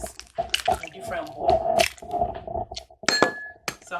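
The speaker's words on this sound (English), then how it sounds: "Always crack your eggs in different bowls." Eggs cracked into a bowl in a kitchen: sharp shell taps and clinks against the bowl, then wet squishy drips as the contents slide out, close and clear with a few brief spoken words in between.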